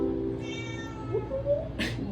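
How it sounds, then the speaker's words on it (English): A pet cat gives a couple of soft, close meows over a low background hum, with a brief rustle near the end. "That's my cat."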